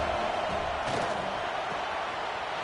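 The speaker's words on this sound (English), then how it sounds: "here comes the noise. This crowd is trying to inspire this defense to make a big red zone stop" Stadium crowd noise in a college football video game during a red zone defensive stand, a broad sustained roar that swells briefly near the start and then holds steady in the background.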